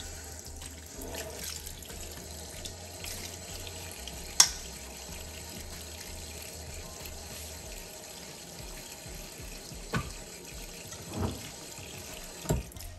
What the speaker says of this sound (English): What I'm gonna do